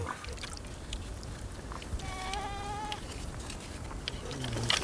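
Two small sheep and a goat bleat in the Sahara, with a clear wavering bleat around the middle against a steady outdoor noise floor and a few faint rustles.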